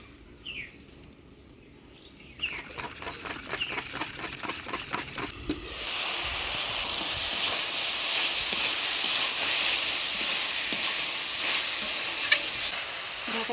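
Nigella seeds drop into hot oil, followed by vegetables for a Bengali chorchori being stirred; a spatula scrapes rhythmically before a loud, steady sizzle takes over close by.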